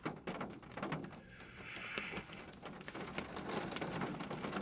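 Steady rain falls on a road, a dense continuous patter of drops hitting the surface close by, with no voices.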